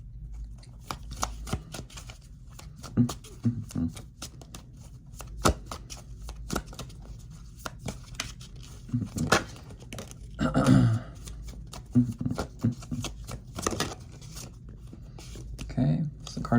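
Tarot cards riffled and shuffled in repeated bursts until one flips over, crisp papery slaps and rustles close by, with speech present in the background.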